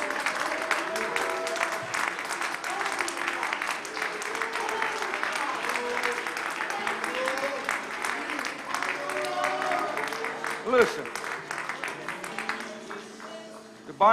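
A congregation at a worship service claps steadily for a long stretch, a dense, even wash of applause with voices mixed in, tapering slightly toward the end.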